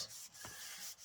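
A steady rubbing of a hand pressing paper down onto a page in a handmade recipe keeper journal, one continuous close scuffing stroke with a brief dip near the end.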